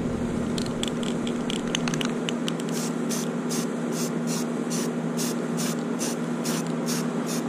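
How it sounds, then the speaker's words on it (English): Rust-Oleum automotive 2-in-1 filler and sandable primer sprayed from an aerosol can onto new sheet metal for a skoolie roof raise gives a steady close hiss with a fizzy crackle and short repeated bursts, no voices. "this automotive Rust-Oleum 2-in-1 filler and sandable primer to spray it on the sheet metal where the rivets are gonna go"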